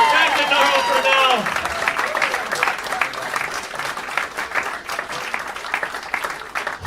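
Comedy club audience applauding after stand-up crowd work, dense steady clapping with cheers and voices mixed in at the start, then settling into continuous loud applause.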